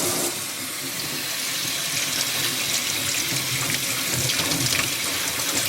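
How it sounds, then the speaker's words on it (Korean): Cold tap water pours steadily into a sink over freshly boiled noodles being rinsed, a continuous close splashing rush with no talking. "면이 다 삶아져가지고 찬물에 제가 씻어보도록 할게요"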